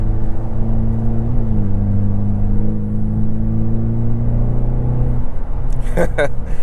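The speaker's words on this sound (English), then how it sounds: "You can hear a little bit of the turbo spooling up, and the blow-off valve, it's like whoosh." A 2024 Ford Mustang EcoBoost drives with a steady engine drone and rising turbo whine under a voice, ending in brief sharp bursts that fit a blow-off valve release.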